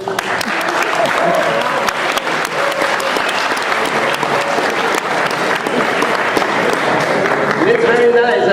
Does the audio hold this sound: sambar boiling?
no